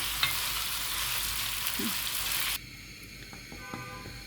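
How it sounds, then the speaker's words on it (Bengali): Cabbage with catla fish belly frying in a pan, a loud dense sizzle with stirring for a few seconds that drops suddenly to a much quieter background with faint clinks. "আমি 7-8 মিনিটের মতো ভালোভাবে নেড়েচেড়ে এটা ভেজেছি"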